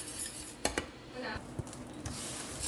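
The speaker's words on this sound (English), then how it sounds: "And stir." A utensil stirs churros dough with flour in a pan, giving a few scattered scraping knocks and light metallic clinks, close and fairly quiet.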